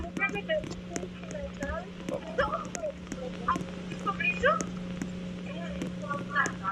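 Dogs in a room of a horror hotel video game give out repeated high yips and whimpers, scattered across the stretch over a steady low hum, with people talking over them.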